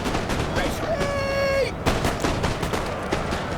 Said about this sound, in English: I can literally hear the bullets hitting the trees.